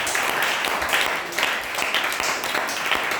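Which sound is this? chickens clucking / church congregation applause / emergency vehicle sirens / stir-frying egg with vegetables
church congregation applause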